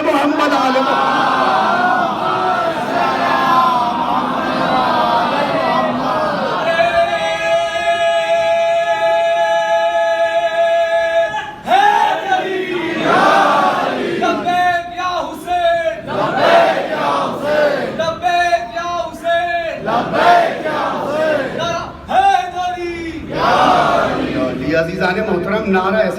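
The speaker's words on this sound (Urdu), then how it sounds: "عزیزان محترم نعرہ ایسے لگا وہ جیسے امیروں کے نعرے لگتے ہیں" A religious gathering in Karbala, Kotla, Delhi, where a large crowd chants slogans in loud unison, with a lead voice calling and the crowd roaring back in repeated bursts.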